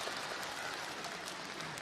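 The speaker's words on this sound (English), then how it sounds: "Chinese crowd happy about that" A Chinese crowd applauds a curling shot at a mixed doubles Curling World Cup match in Suzhou: steady, dense clapping that fills the arena evenly throughout, with no talk on top.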